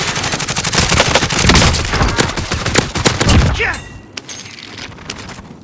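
Dense, loud video-game gunfire in a military shooter, with rapid machine-gun bursts and overlapping shots forming a continuous fusillade that thins into a few scattered shots near the end.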